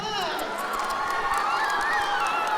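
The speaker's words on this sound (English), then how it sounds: "Give him a round of applause." A school homecoming crowd, children among them, bursts into applause, whoops and cheering that stays loud and continuous from start to finish.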